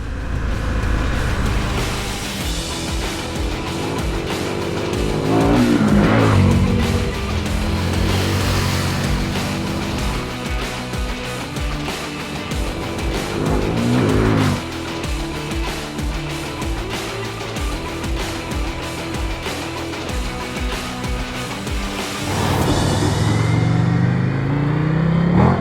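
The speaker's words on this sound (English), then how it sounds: "A little bit overexcited on the throttle there." An Indian FTR 1200 Sport motorcycle engine with its rider on the throttle on an open road, loud and continuous, rising in several revving surges with gear-change dips and a strong rush of wind throughout.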